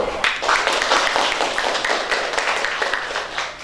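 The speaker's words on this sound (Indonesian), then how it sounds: "Anak-anak tepuk tangan dulu." Children in a classroom clap their hands together, a dense, lively round of applause lasting a few seconds, with some voices mixed in.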